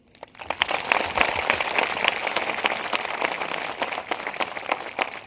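Hand clapping from a church congregation fills the space in a dense, steady patter of many hands, sustained and fairly even throughout with no talk over it.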